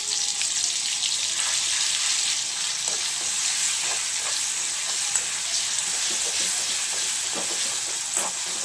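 Garlic and onion paste, dropped into hot oil with popped mustard seeds, sizzles and fries steadily in a pan for dabeli, a constant hiss with occasional faint stirring scrapes and no talk.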